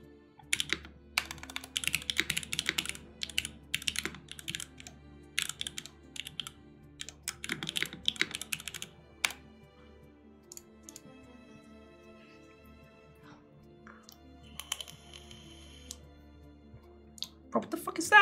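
A mechanical keyboard clacks through bursts of fast typing with short pauses between them. A voice talks over the keystrokes throughout.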